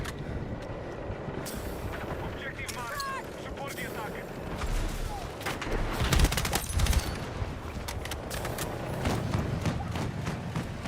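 Bursts of gunfire and explosions in the Battlefield 6 video game, a dense, busy battlefield mix with scattered shots and thumps under ongoing talk.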